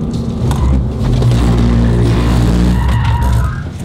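Tires on a Hyundai i20N screech loudly through a drift provoked by steering alone, a sustained squealing skid with engine drone underneath, lasting several seconds before easing off.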